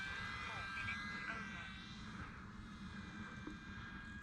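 An E-Flite UMX Carbon Cub SS radio-controlled airplane flies with a thin, steady electric motor whine whose pitch slowly shifts as it passes. The sound is faint and distant over wind and outdoor background noise.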